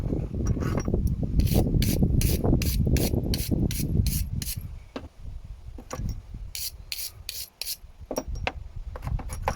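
Close, harsh rasping and brushing of a BMW F07 GT 3.0d crankshaft pulley's bolts being cleaned, first as dense continuous scrubbing, then as rapid bursts of short strokes with brief pauses.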